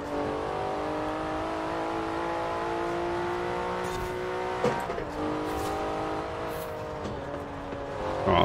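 Car engine in Forza Horizon 4, a loud sustained drone with rising and falling revs, gear changes and tire noise, close and continuous with no voices.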